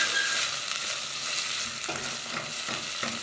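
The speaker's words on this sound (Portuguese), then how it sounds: "Então, eu frito o bacon." Bacon and sausage fry in a triple-bottom pan, a continuous crackling sizzle with soft stirring scrapes, close and alone.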